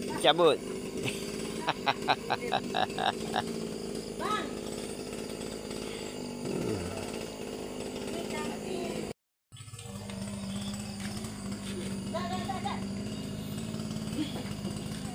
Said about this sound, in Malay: Mesin rumput ni rosak lah.